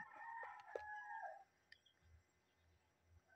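A rooster crows once before dawn, around three in the morning, a single loud, close cock-a-doodle-doo lasting over a second, followed by near silence with faint rustling and small knocks.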